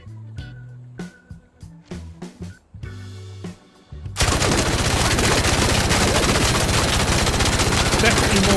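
Separate heavy shots ring out in the video game Arc Raiders, then a Kinetic Converter–modded weapon opens up in continuous rapid automatic fire that stays loud and dense to the end.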